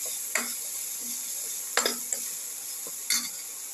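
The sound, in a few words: food sautéing in a pan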